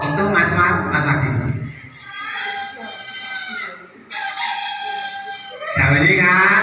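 A person imitates a rooster, crowing three times in loud close vocal bursts with short pauses between them, indoors during a puppet presentation at an Easter service.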